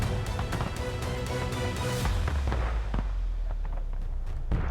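Artillery cannon fire from opposing batteries in a game battle: a rapid series of sharp booms, then a deep rumbling blast followed by scattered distant cracks and thuds, loud throughout with no talking.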